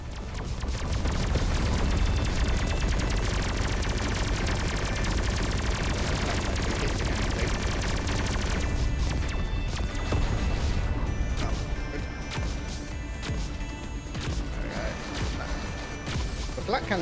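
Rapid, dense bursts of cannon fire from the game Everspace 2 with crashing impacts, loud and continuous throughout, over a busy soundtrack.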